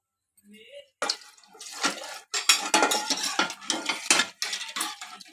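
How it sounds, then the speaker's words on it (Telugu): Water splashes and swishes around a pan, mixed with clanks of metal on metal, in uneven bursts close by. "పాన్ కూడా కడిగి వేసేస్తాను నీళ్ళు"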